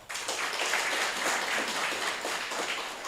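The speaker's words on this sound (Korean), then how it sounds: "마음으로 박수 한번 좀 부탁드리겠습니다" Dense audience applause at a Sejong Day world citizens' celebration, a steady wash of many hands clapping throughout, moderately loud and without talk.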